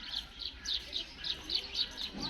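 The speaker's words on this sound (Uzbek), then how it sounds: "Tovuslar." Birds calling at a zoo in Toʻraqoʻrgʻon, where peacocks are kept: a steady series of short, bright, high calls repeats at a regular pace about every half second, clear and fairly close, with no talking.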